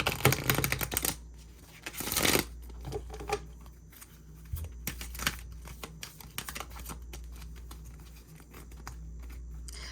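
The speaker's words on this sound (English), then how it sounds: "I should reshuffle and like re-pull the cards." Tarot cards being reshuffled by hand, giving close, papery riffling and crinkling bursts that come in uneven clusters and then settle into a softer rustle, with no talking.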